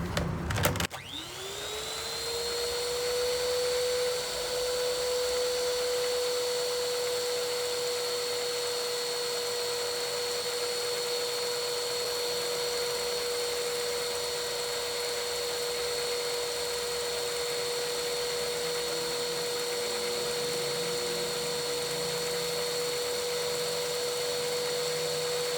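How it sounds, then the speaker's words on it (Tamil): An electric hand mixer beats carrot cake batter at slow speed, a steady motor whine with a constant tone that starts abruptly and then holds evenly, close and fairly loud, with no talking. "இதே ஸ்லோ ஸ்பீட்லேயே அடிக்க போகிறேன்"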